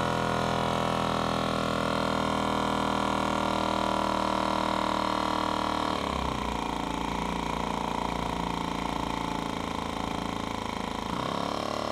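Engine running steadily and loud throughout, a continuous mechanical drone with a slight shift in tone midway as it revs up to about 1700 rpm while straining under load.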